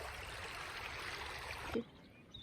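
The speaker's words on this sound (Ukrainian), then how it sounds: "А он дов шумить, вода пре." Steady broadband rush of flowing river water in the Carpathians, loud and close, cutting off abruptly near the end and leaving quieter background.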